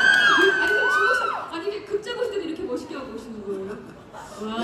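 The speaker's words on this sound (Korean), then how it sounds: "오늘 좀 많은 분들이 지금 함성을 질러주고 계십니다" A large crowd cheers and whoops at a Korean film premiere screening in a cinema, loud shrill shouts at first, then a sustained roar that fades under close talking voices.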